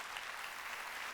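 A church congregation applauds during a Korean sermon, a faint, even wash of many hands clapping with no voices over it.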